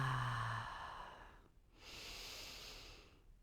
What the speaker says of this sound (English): let's take just 3 nice deep breaths in through the nose, out through the mouth